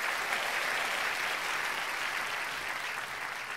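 Loud, dense applause for a traditional highland folk band at a live show, continuous clapping filling the whole stretch without a break.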